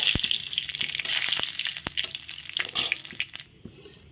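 Cumin seeds, dried red chillies and bay leaves hit hot oil in a pan, a bright close sizzle with sharp crackling pops that gradually settles and thins out toward the end.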